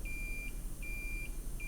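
A multimeter in continuity mode probing across a main capacitor on a water-damaged iPhone board, giving a steady high-pitched beep that drops out briefly twice, close and clear over a faint room hiss.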